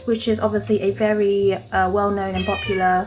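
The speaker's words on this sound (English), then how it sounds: "That's my cat." A domestic cat meows several times, loud and close, with drawn-out tonal cries overlapping a person talking nearby indoors.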